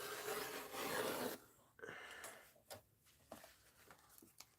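Excess material is trimmed from a mixed-media art journal page: a steady rasping, rubbing cut for about a second, then scattered soft scrapes, snips and paper handling, close and quiet with no speech.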